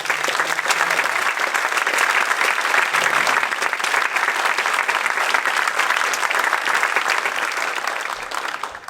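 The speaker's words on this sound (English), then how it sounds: "So ladies and gents, another round of applause." An audience gives a community band a sustained round of dense applause, loud and steady for about nine seconds, then it begins to thin slightly at the end.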